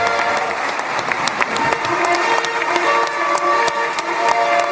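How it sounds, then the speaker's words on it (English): Steady, dense applause fills the Knesset chamber as a crowd claps, while a couple of trumpets sound sustained horn notes above the clapping. "the Knesset has a horn section. It was kind of cool. It's got, I guess it was a couple of trumpets over there, but in addition to the clapping"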